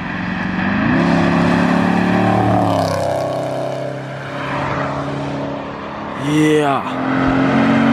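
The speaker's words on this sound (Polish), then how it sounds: "A teraz wyszedłem, żeby pokazać, jak brzmi auto z zewnątrz." Dodge Hellcat with a 935 HP engine heard from outside, loud and close, its V8 roar rising and falling through several revs with a sharp surge near the end; someone speaks briefly.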